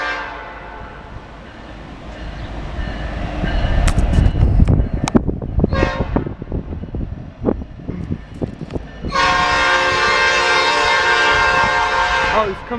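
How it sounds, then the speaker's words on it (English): A Norfolk Southern northbound mixed freight train passes in Marion, Ohio, with rising rumble and clatter of wagons, then a loud sustained horn blast near the end; voices speak faintly at the start. "Alright guys, got a train coming."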